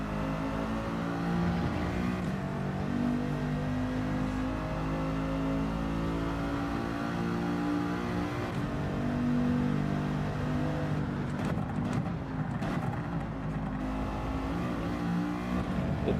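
Racing car engine in Gran Turismo 7, a continuous droning roar that rises and falls in pitch as the car revs up and shifts, close and steady throughout with no talk.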